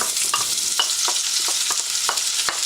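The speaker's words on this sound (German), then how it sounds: "Als allererst werde ich jetzt die Zwiebel anbraten." Three medium onions frying and being stirred in a pan, a steady bright sizzle broken by repeated scraping strokes of the spatula, close and alone without talk.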